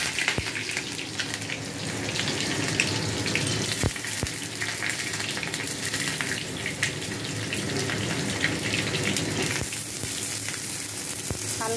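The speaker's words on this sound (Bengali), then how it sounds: "হালকা আঁচে আমি পটলগুলো ভালো করে ভেজে নেব।" Pointed gourd (potol) pieces fry in oil with black cumin over a low gas flame, giving a steady, even sizzle with occasional sharp crackles and no talking.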